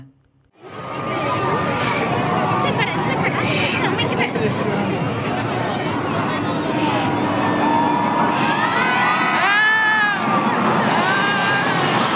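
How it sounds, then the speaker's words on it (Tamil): A large crowd cheers and chatters at the 2024 Indian Air Force air show over Chennai's Marina beach, a dense continuous roar of voices with engine noise mixed in. "நீங்கள் அங்கே மக்களோட ஆரவாரத்தை கேளுங்க"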